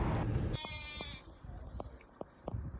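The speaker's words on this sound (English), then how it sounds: "Can't believe the sheep are in their field and barring." Sheep bleating in a field in Scotland near Ben Nevis, several short bleats at irregular intervals, some close and others farther off, following a brief burst of wind or rustling at the start, with no talk.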